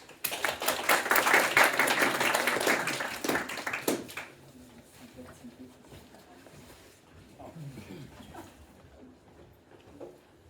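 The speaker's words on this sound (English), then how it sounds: "So give them a good round of applause." Audience applause greets two speakers, Interact Software's QA lead and a colleague, at a talk on quality assurance in the age of AI, loud and dense for about four seconds, then fading to a quiet room with scattered light sounds.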